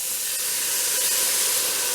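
Water poured into a pan of browning ground chuck sends up a loud, continuous steaming hiss that fills the full two seconds, close and alone with no talk.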